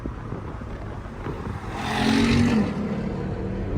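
A Lexus LS400 on a race track gives a steady engine drone that swells to a louder roar at mid-clip, then eases back to a constant hum.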